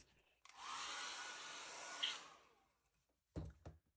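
A hair dryer blows a steady, close whooshing roar over a wet-on-wet watercolor painting for about two and a half seconds, then cuts off, followed by a brief voice.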